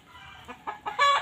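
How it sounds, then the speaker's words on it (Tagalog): Backyard chickens cluck in a few short, close bursts that build in loudness over about a second, with no talk over them. "May manok."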